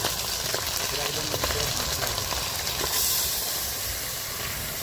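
Water poured into a hot pan of ground ginger-garlic paste and turmeric while cooking a beef and gourd curry gives a steady, loud hiss and steamy sizzle that fills the whole stretch, swelling briefly near the end.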